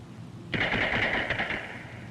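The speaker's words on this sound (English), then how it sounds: "2 shots before Stark could react." A revolver fires, a Smith & Wesson Combat Magnum drawn quickly. The reports come as a loud, sharp burst that rings on for about a second and a half, with nothing before it but low background hum.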